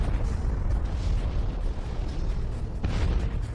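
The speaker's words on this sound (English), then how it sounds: "While the explosion of a Type 2 supernova showers the universe with heavy elements, the core of the exploding star is left intact" A supernova explosion sound effect in a space documentary: a deep, sustained rumbling roar that stays loud and dense throughout, with a brief swelling burst near the end.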